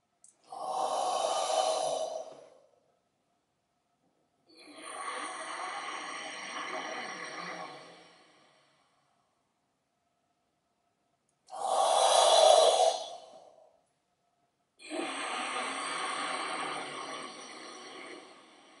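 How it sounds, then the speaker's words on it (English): Ah Um Hara breathing exercise in a dynamic style: four long, loud breath sounds, forceful and close, each lasting about two to three seconds, separated by short silences, with no talking. "This is a fairly dynamic style of breathing."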